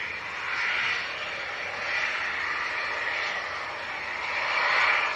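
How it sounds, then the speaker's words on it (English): A Ryanair jet plane taking off at Leeds Bradford Airport, heard as a steady, broad engine roar at moderate distance, swelling slightly toward the end with no talk over it. "this is going to be a late takeoff from the Ryanair."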